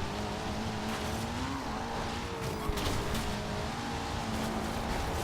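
A car drifts in a racing video game, with a steady engine drone and wavering tire squeal holding throughout at moderate level.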